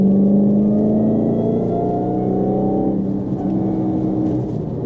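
A Dodge Charger Hellcat Redeye with its powertrain in full attack mode accelerates while driving, producing a loud, close engine drone with rising harmonics that shift through the pull, then a steady rumbling cruise.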